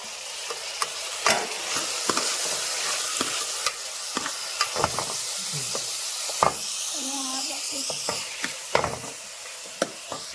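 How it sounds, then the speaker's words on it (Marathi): Tomatoes stirred and sizzling in a frying pan, with a steady hiss of frying under repeated scrapes and clinks of a spoon against the pan, close and moderately loud, with faint voices in the background. "आता मी टोमॅटो टाकून घेतलोय ढवळतो ढवळ"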